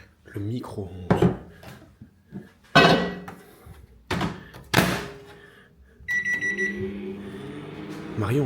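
A microwave oven heating wax hums steadily in a home kitchen, beginning with a beep and running on at moderate level, after several sharp knocks and clatters and over talk in the room.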